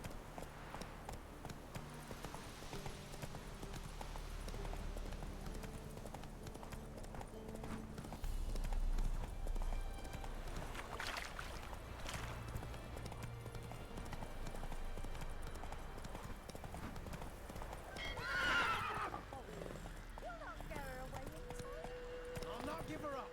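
Horse hooves clip-clop at a walk in The Witcher 3, a soft repeating rhythm under game music, with a voice speaking over it.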